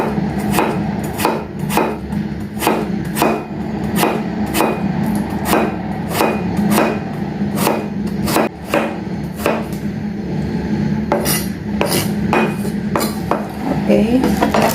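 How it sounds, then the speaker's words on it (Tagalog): A knife chops sayote (chayote) into small pieces on a cutting board, rapid steady close thuds repeating at a brisk rhythm throughout, loud and continuous with no talking. "now we will slice the sayote"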